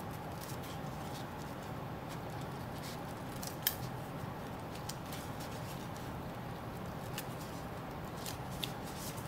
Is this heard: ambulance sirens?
no